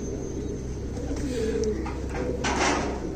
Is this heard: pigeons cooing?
yes